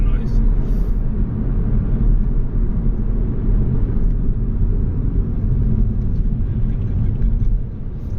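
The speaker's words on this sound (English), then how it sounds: "Lots of tire noise." Steady low rumble of tire road noise heard from inside a Peugeot Citroen C4 while driving, a dense continuous roar that stays constant and loud throughout, with a voice speaking over it.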